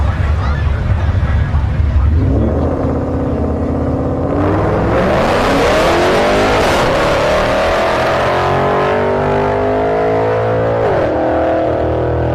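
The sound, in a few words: Mustang drag racing solo pass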